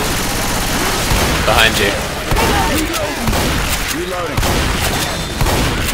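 Rapid gunfire in the Left 4 Dead 2 Streets campaign on PC, a dense continuous fusillade of shots running throughout, loud and close, with players talking over it.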